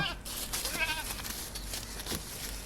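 A large adult goat of about sixty kilograms, a doe that has kidded three times, offered for sale at Kottakkal, lets out a short wavering bleat at close range over steady background noise, with a few fainter calls around it.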